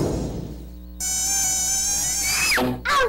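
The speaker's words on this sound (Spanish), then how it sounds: "El mosquito transmisor del dengue vive en recipientes que contienen agua." A dengue-carrying mosquito buzzes with a thin, steady, high-pitched whine close by. The tone holds constant, then bends sharply near the end before resuming, with no talk.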